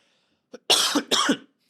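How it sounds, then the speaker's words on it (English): Two sharp, close coughs in quick succession, preceded by a small throat sound, then quiet. "I've definitely got a cough."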